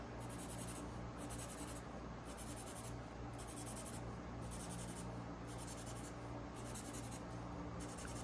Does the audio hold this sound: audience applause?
no